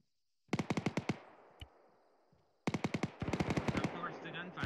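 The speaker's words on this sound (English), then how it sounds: "Of course, the gunfire." Two sharp bursts of rapid automatic gunfire in the video game Arma 3, each a quick string of loud shots, with a lone shot in the pause between them.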